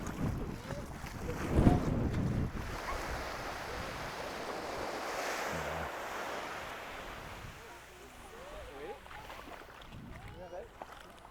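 Waves break and wash on Friar's Bay beach in St. Maarten, a soft surf rumbling in the background while people talk nearby, with some wind noise.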